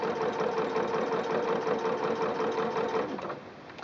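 A sewing machine stitches fabric in one continuous run, a steady, close mechanical whir with a fast rhythmic clatter that holds for about three seconds and then slows and drops away.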